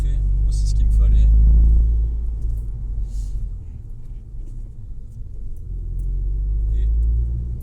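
Volkswagen Golf 6 GTI with a stage 1 tune, about 275 hp, driving with a steady, discreet engine and exhaust drone. Low rumble swells and eases under someone speaking throughout.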